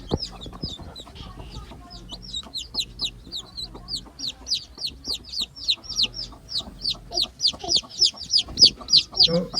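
Chickens and young chicks cluck and peep steadily on a poultry farm, a dense run of short high chirps repeating close by, with a few lower clucks underneath and occasional voices in the background.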